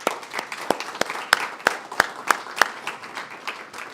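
An audience at a University of Utah prize announcement event applauds, with sharp individual claps standing out in a steady, moderately loud burst of clapping; no talk over it.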